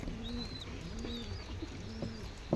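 Pigeons cooing nearby, with three or four low, rounded coos in a slow repeating rhythm over a steady background hiss, plus a thin whistling tone above.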